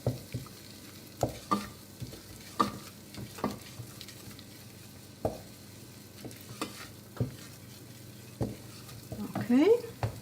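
Flour being stirred into a sauce in a pan for Königsberger Klopse, soft repeated scrapes and taps of a spoon at an unhurried pace over a quiet simmering background.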